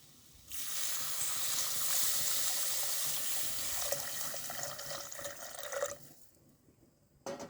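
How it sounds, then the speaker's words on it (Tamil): Water pours into a cooking pot of fish curry in a steady rushing stream for several seconds, then stops, followed by a short clatter at the end. "தண்ணி ஊற்றிக்கலாம்."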